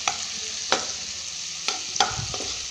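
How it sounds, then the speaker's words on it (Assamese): Tomatoes sizzle steadily in a hot pan for a Maggi masala tadka, broken by a few close scrapes of a stirring spoon and no voices. "বিলাহীখিনি ৰঙা হোৱালৈকে আমি এইখিনি ভাজি থাকিম।"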